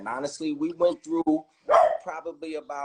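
Pet dog barks a few times in a home, mixed in with ongoing conversation between people talking over it.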